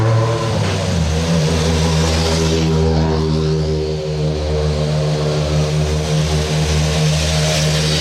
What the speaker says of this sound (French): Là c'est les premières voitures qui arrivent